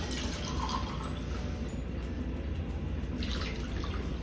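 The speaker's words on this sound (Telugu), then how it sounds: "ఇప్పుడు ఇందులో గ్లాసు వాటర్ వేసి నానబెట్టుకుందాం." Tap water trickles and drips steadily into a container of soaking chana dal lentils in a home kitchen, a close, continuous wet splashing with no voices.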